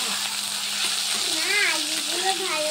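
Potatoes fry in hot oil with a pinch of panch phoron, giving a continuous, close sizzle and crackle throughout with faint stirring, and no talking.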